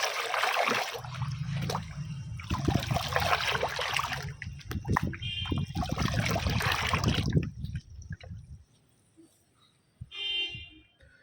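Plant nutrient solution being stirred into about five litres of water, a loud churning and sloshing that runs in long surges, then drops to quieter trickles with a faint squeak near the end.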